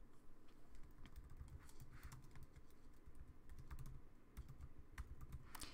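Typing on a computer keyboard, a fast irregular run of light clicking keystrokes heard close up, steady for several seconds with brief pauses and no talking.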